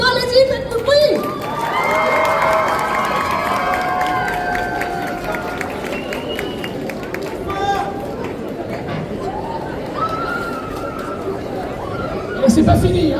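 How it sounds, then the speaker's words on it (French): An audience at the Angers Geekfest 2024 cosplay parade, a lively crowd of chattering and shouting voices with scattered cheers and a brief clap-like burst near the end. "Et encore bravo encore à tous ces cosplayers, plein d'applaudissements, allez-y, faites du bruit"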